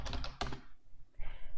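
Keystrokes on a computer keyboard while entering a terminal command to activate a Python environment, a quick burst of close clicks followed by a brief pause and a softer final patter.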